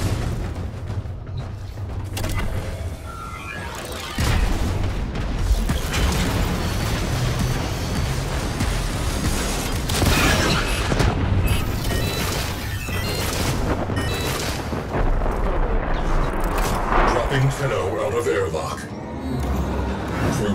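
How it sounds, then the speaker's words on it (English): Ship cannon fire in the Warframe Railjack space combat game, repeated booming blasts and crashes among dense game effects, with a voice talking over much of it. "I'll go use the cannon once again."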